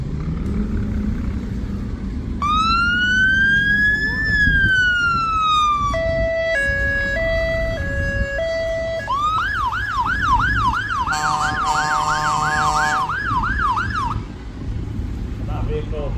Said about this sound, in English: Recently retired Volvo fire engine.